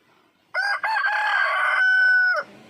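A rooster on a farm gives one loud, close crow lasting nearly two seconds, with hens clucking faintly around it.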